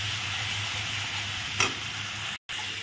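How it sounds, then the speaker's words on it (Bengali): Chopped banana flower sautés with ground coriander, chili powder and green chilies in a hot pan, a continuous close sizzle with a brief stirring scrape partway through and no talk. "মশলাটা ভালো করে কষিয়ে নিলাম।"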